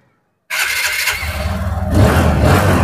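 A new TVS Apache RTR 160 motorcycle with dual disc brakes and single-channel ABS cranks and fires up after brief silence, then settles into a close, loud, steady idle that rises slightly near the end.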